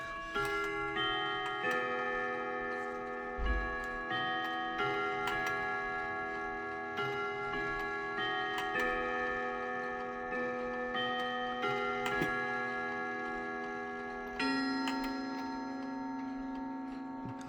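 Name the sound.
Sessions WC94 mantle clock chiming one o'clock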